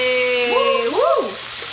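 Onions sizzling with mustard in a hot pan, a loud steady frying hiss running throughout, while a whistle-like sliding tone rises and falls over it.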